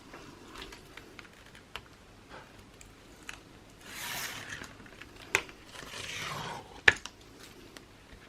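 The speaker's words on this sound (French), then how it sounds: "Donc, j'enlève la pellicule de double face." Backing film is peeled off double-sided tape during a papercraft album build, giving two soft, close tearing rasps among light ticks and paper taps, with no talk.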